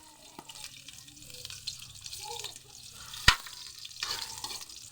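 Garlic frying in a little cooking oil in a pan, a soft steady sizzle with stirring and one sharp clack, heard close at low volume.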